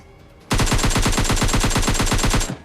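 A rapid automatic burst of gunfire in the PUBG Mobile Lite video game lasts about two seconds, with about twenty evenly spaced shots, loud and close.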